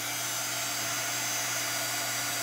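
A handheld heat or hair dryer blows over wet Tim Holtz mica stains on a craft project, making a constant loud whirring hiss with no pauses.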